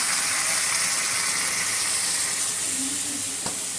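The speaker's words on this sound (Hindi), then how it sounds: "और अब हम इसमें ऐड करेंगे वाटर। फ्रेंड्स देखिए कैसे आवाज़ आ रही है" Water poured into a hot pan, letting off a loud, steady hiss of steam that fades slightly near the end, with a brief clunk just before it finishes and no voices.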